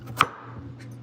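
Knife chopping food on a grooved chopping board, a single sharp close knock followed by a fainter second tap in a quiet kitchen.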